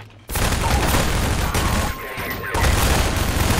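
Dense, loud bursts of weapon fire in Half-Life 2 fill the whole stretch almost without pause, with a brief dip near the middle before the barrage resumes at full strength.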